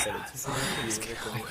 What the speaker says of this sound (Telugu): డోరు వెనకాల నుండి ఎవరో మాట్లాడుకుంటున్న సౌండ్స్ వినిపిస్తున్నాయి